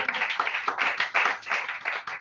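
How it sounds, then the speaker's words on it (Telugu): A congregation at a Christian sermon claps hands together in a fast, uneven burst of many overlapping claps, fairly close and continuous for a couple of seconds, with faint voices underneath. "చప్పట్లు కొట్టాలి."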